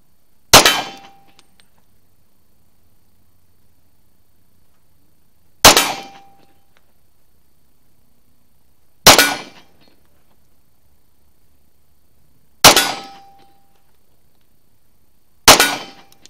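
A Kimber .45 1911 pistol fires five single shots, each a loud, sharp crack with a short decay, spaced a few seconds apart with silence between them.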